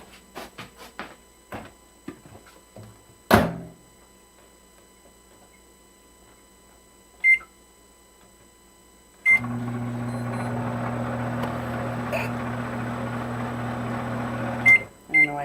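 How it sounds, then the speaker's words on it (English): A microwave oven heating cauliflower rice in water beeps a few times, then runs with a steady, close electrical hum for several seconds before a final beep. Small kitchen clicks and taps come before it starts. "I'm going to pop it into the microwave for 10 minutes."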